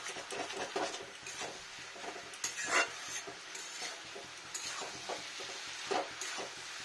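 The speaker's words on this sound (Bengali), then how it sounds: "জিরা বাটাটা মেশাই।" Cumin paste being stirred into cabbage in a pan, with repeated scraping strokes of a spoon against the pan over a soft sizzle, close and steady, with no talk.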